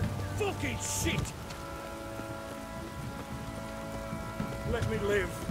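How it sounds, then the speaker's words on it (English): Heavy downpour in The Witcher III, a steady wash of rain hiss beneath game dialogue, with voices speaking near the start and end. "This downpour's a bastard, it is."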